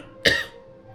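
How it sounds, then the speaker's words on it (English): A single short, sharp cough from one person, close and fairly loud, then a quiet room. "forgive me, it's the coughing and all of that"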